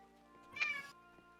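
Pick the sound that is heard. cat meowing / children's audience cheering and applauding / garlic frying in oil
cat meowing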